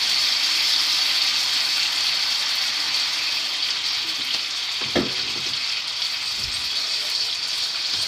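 Italian sausage frying in olive oil for spaghetti gives a steady, close, dense sizzle throughout, with a brief utensil stir and clatter about midway.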